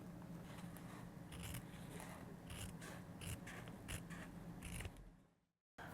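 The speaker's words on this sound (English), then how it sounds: "I'm going to take my piece of foam and I'm going to pin that in place and trim around it." Scissors trim around a piece of pinned foam for a nesting basket, giving close, repeated snipping and crisp cutting strokes that stop just before the end.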